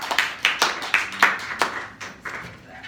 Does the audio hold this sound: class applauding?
yes